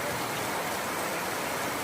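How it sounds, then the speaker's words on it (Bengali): Steady rain falls at an old market in a constant, even hiss, filling the short stretch without any voices. "এখন দিয়ে বৃষ্টি নেমে আসছে"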